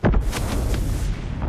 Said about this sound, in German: Das ist einfach ein Schuss.